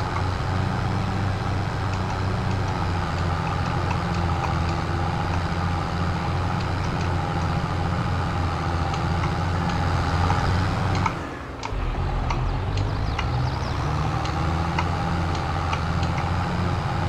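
A steady, droning tractor engine in a farming video game rumbles continuously, with a brief dip and gear-like change partway through before the drone resumes.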